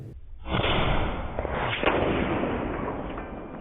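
An AEA Challenger Pro airgun fires a .357 slug at an egg target, giving one sharp, loud muzzle report followed by a long, broad rushing wash that slowly tails off, with no talking.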